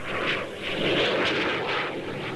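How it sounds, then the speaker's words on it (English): Bristol Siddeley Viper turbojet powering a Macchi jet trainer in flight at the 1966 Farnborough air show, a steady broad jet roar rising and falling slightly, continuous and fairly distant, with no talk. "a Bristol Siddeley Viper turbojet punches the Macchi jet trainer through the skies."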